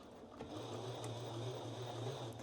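A sewing machine runs steadily, stitching a line along a dress seam with a soft, even mechanical hum and rapid needle patter, close and alone with no talk.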